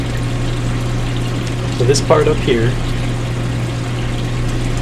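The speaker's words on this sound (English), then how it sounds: "So this has a return pump like the other systems we looked at" An aquarium return pump hums at a steady pitch while moving water, with a person speaking briefly over it near the middle.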